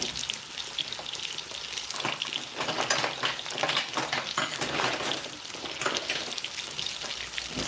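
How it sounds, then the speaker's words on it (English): Steak fries in a pan beside butter and onion, a dense crackling sizzle that swells as the meat is turned over, with light utensil scrapes. "So now I'm going to try to turn that steak around."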